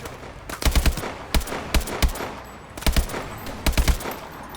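Rapid automatic gunfire from Call of Duty Advanced Warfare comes in several tight bursts of loud, sharp cracks separated by short pauses, close and with no talk over it.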